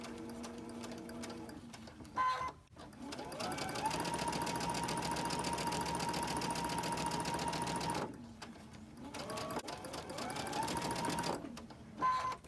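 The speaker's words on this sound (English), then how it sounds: "we're going to be real careful when we sew down this seam here" A sewing machine stitches a seam on a quilt block, running in a steady rapid whirring burst for several seconds, pausing briefly, then stitching again for a shorter run, up close with no talking.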